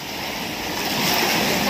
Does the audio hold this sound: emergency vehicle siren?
no